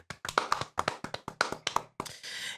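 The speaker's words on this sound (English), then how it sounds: "Clap it up, boys. Clap it up." Hands clap in an irregular, quick burst of about a dozen sharp, close claps, some slightly doubled, ending in a brief softer rustle.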